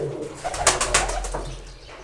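Pigeons cooing close by, a soft throaty series of rolling coos over faint low background rumble.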